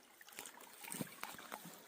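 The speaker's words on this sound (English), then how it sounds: "Just a little spring." A small spring in a dry wilderness area trickles water with faint, irregular dribbles and soft splashes, quiet and close in an otherwise still outdoor setting.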